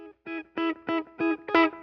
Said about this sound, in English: to really kind of overdrive and big with a lot of grit on it. In the same pedal.